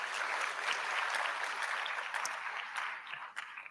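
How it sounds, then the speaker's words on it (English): An audience claps at an induction ceremony for newly qualified physician assistants in Ghana, a dense, fairly distant round of applause that holds steady, then thins out toward the end. "then you have to clap hands for yourself"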